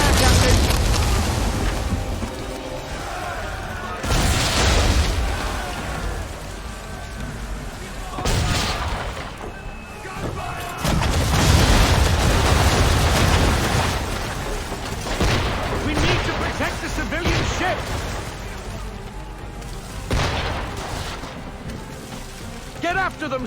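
Naval cannon fire in Assassin's Creed III, with repeated heavy booms and broad blasts that cut through loud battle noise and spray, some shots near and some more distant, spread unevenly across the stretch.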